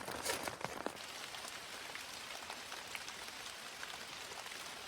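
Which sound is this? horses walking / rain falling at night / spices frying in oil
rain falling at night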